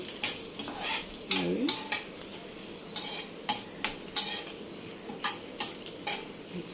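Seeds and pods fry in a pan with a soft background sizzle, punctuated by a series of sharp clinks and scrapes from a utensil stirring at irregular intervals, close and distinct.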